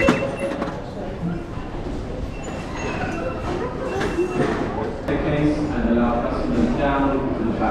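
A London Underground tube train pulls into the station, a rumbling, squealing approach under echoing platform noise, with people talking nearby.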